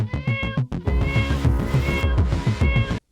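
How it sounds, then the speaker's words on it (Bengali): A cartoon kitten meows in a quick run of repeated, loud, close cries, nearly continuous and heard on its own. "টুকটুক হঠাৎ মিউ মিউ শব্দ শুনতে পেল।"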